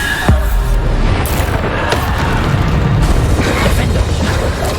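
Bombarda spell explosions in Hogwarts Legacy, a loud, dense rumbling blast of booms and crackling debris filling the whole stretch without pause.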